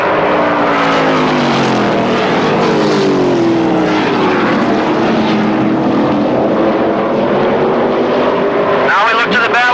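Stock car sportsman race cars roar steadily around the track at a 2000 event, a continuous loud engine drone with shifting pitch as cars pass, under a commentator's voice throughout.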